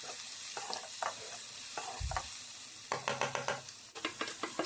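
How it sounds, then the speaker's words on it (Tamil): Tomatoes sautéing with rock salt in a pan for a Tamil soya chukka dish, soft sizzling under repeated scraping stirs of a spoon, close and fairly quiet, with no talking. "சேர்த்துட்டு இப்போ தக்காளி வதக்கி விட்டுக்கலாம்."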